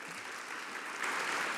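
Continuous applause from an audience at a school board meeting honouring elementary school recipients, a dense wash of clapping that swells slightly toward the end, heard at a moderate distance.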